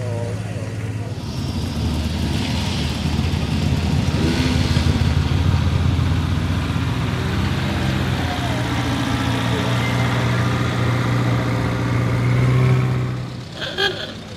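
Vintage car engines idle at an outdoor car show beside a Triumph TR6, giving a steady low rumble for about thirteen seconds while people talk nearby, then fading near the end.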